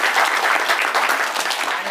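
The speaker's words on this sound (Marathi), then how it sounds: "ह्या सर्व कवींसाठी जोरदार आपण टाळ्या वाजवूया." Enthusiastic clapping from schoolchildren in a fifth-grade classroom, a dense, continuous patter of many hands at steady loudness, close by and without talk.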